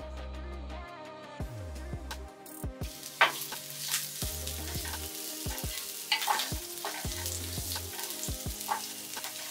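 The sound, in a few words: onions frying in oil with whole garam masala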